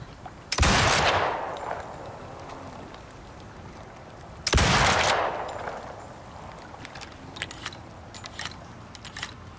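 Two loud rifle shots fired from the hip in the survival game Icarus, about four seconds apart, each a sharp crack with a long echoing tail, followed by faint clicks and clatter.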